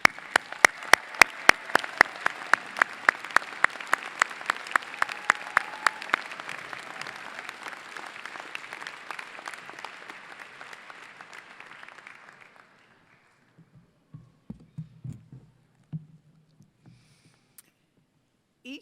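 Audience applause for standing graduates at a Johns Hopkins Carey Business School spring graduation ceremony, with rhythmic loud claps up front over a dense crowd patter that fades out after about twelve seconds, leaving quiet shuffling and a few faint sounds.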